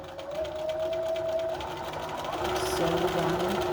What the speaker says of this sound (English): So I'm going to sew from pin to pin, back stitching at each end with a 1/2 inch seam here.